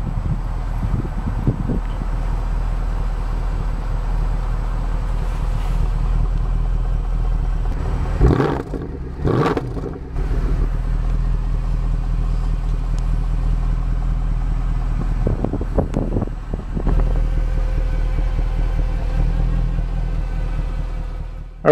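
A 2013 Mercedes C63 AMG Coupe engine runs steadily at a low idle rumble with wind buffeting, marked by two sharp revs near the middle and a couple of smaller blips later.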